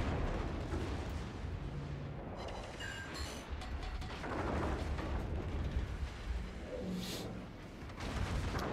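Naval gunfire in World of Warships: a continuous dense rumble of heavy shots and distant impacts, steady and loud throughout with a few sharper cracks standing out.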